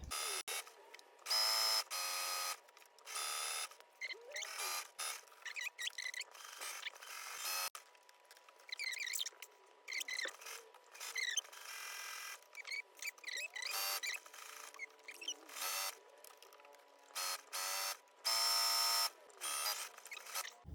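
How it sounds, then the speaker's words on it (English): Sewing machine stitching a swimsuit, running in quick bursts of rapid mechanical whirring and clatter broken by short pauses, close and fairly loud, with no talking. "on the other side I'm going to sew from the front all the way around the U shape"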